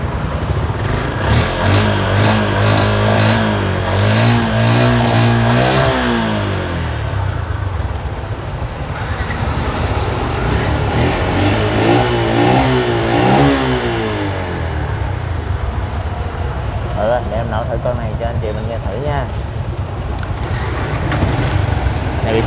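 A motorbike engine starts and revs up and down repeatedly, loud and close, its rising and falling pitch continuing throughout, with faint voices under it.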